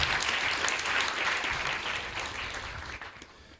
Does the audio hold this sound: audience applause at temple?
yes